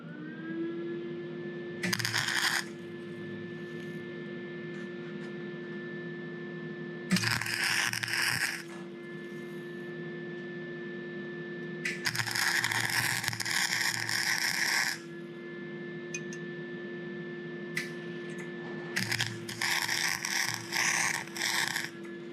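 A welder works on a steel caltrop jig in a shop, with several crackling, sizzling bursts of a few seconds each separated by pauses, over a steady machine hum.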